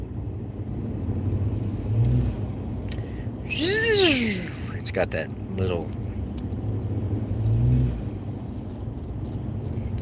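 A 2013 Ford F-150 pickup's engine rising under throttle with the whistling spool of its turbos, heard from inside the cab over steady road noise, with someone speaking briefly.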